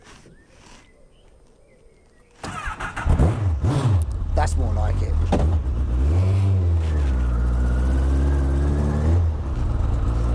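A lightweight Fulcrum car with a Honda CBR1000RR motorcycle engine fires up after a quiet start, then revs loudly and close by, rising and falling before settling into a strong idle, while a person speaks briefly.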